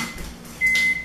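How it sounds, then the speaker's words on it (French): A microwave oven runs while reheating rice, giving a steady hum with a brief high beep-like tone near the end. It is close and moderately loud, with no talking. "le riz est en train de réchauffer au micro-ondes"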